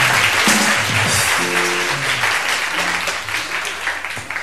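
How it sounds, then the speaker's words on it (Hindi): Studio audience on a live show breaks into steady, dense applause that carries on throughout, gradually thinning toward the end, with a faint voice briefly audible beneath it. "बहुत सारी तालियां अपने लिए बजाइए आप लोग"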